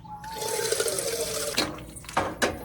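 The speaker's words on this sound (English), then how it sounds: "Fill this with water, get it boiling." Tap water running into a pot for boiling pasta, a steady filling rush that shifts in tone as the level rises, followed by a few short clatters near the end.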